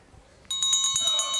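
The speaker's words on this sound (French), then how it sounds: "Ah, la sonnette." A bell rings at a Thoroughbred yearling auction, a bright repeated tone with steady harmonic strikes that starts abruptly partway in and carries on clearly over faint room noise.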